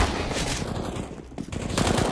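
Rapid automatic gunfire rattles in dense, overlapping bursts during a professional Counter-Strike: Global Offensive match on the Overpass map, loud and nearly continuous with a brief dip midway.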